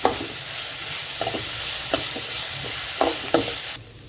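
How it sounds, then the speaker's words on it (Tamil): Ginger, garlic and curry leaves sauté in a pan, giving a steady hiss of frying with several sharp scraping stirs of a spoon at uneven intervals. The sound is close and clear, with no talking. "கொஞ்சோண்டு இஞ்சி பூண்டு நல்லா வதங்கோட்டி கருவேப்பிலை"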